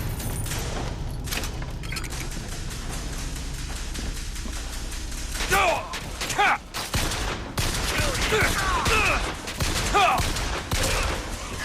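Gunfire in BioShock Infinite crackles in repeated loud shots and bursts, close and punchy, with a voice in the game and a player speaking between volleys.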